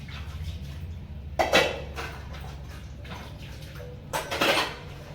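Dishes clink and clatter in a sink, with two louder bursts of rattling metal over a low steady hum.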